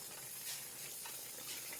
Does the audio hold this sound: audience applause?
no